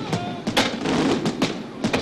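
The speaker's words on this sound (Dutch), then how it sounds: "Amsterdam kreeg een knetterend luchtvuurwerk te zien in de stijl van Monte Carlo en Nice." Big aerial fireworks show over the IJ in Amsterdam celebrating the city's 700th birthday, with a series of distant bangs and crackling bursts in quick irregular succession.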